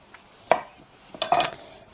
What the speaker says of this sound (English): We just cut off the ends.